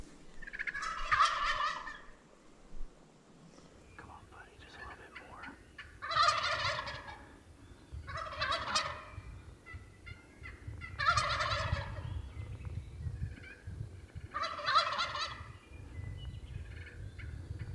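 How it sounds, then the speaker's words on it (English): Merriam wild turkeys gobbling outdoors, five loud rattling gobbles spaced a few seconds apart, carrying over a steady low rumble of wind or distant background noise. "We heard some more gobbles"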